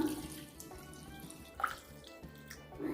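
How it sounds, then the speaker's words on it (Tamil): Water being poured onto coarsely ground pearl millet in a kitchen, faint splashing and dripping with a few brief louder splashes, quiet and without talk. "இதே கப்ல 2 கப் தண்ணி ஊத்திக்கலாம்."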